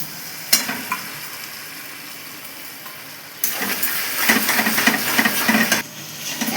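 Spice paste goes into a pan of onion and tomato frying in oil. A quiet stretch and a sharp clink come first, then a loud, close sizzle with scraping stirring takes over partway through.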